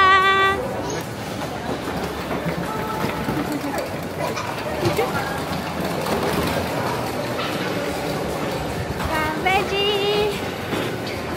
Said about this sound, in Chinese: 我们已经到我们要坐去关西机场的列车了